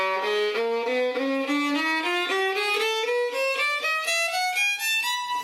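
A chromatic scale in Bohlen-Pierce tuning climbs steadily upward, each bright, clear tone stepping evenly to the next pitch in a smooth, regular run.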